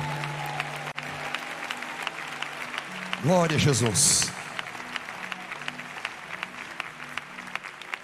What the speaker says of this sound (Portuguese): E a igreja pode glorificar a Deus com a salva de palmas bem alegre